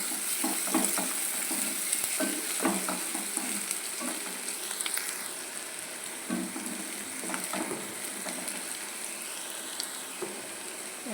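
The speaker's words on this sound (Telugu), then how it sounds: "కొంచెం జీలకర్ర వేస్తాను" Cumin seeds sizzle steadily in a hot frying pan of oil, a continuous close crackle with occasional stirring scrapes and clinks, no voices.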